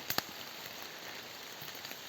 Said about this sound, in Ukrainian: Дощ паде щосили.